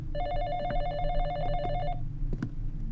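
An old-style telephone rings in the Exanimum horror video game, a close, insistent electric bell trill lasting about two seconds, then falling silent, leaving a low hum and a few faint knocks.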